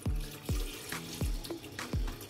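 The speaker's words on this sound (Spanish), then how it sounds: "Y por último le vamos a poner 1 litro de agua." About a litre of very cold water is poured into a Thermomix for walnut horchata, giving a close, moderately quiet run of rhythmic glugging splashes, roughly one every half second, with no talking.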